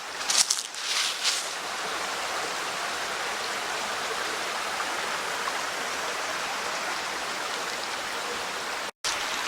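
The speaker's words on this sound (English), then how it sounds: "Well, here's a better look at the creek." Creek water of Carbaugh Run in a natural area flows in a steady, close, full rushing babble, continuous and alone apart from a brief dropout near the end.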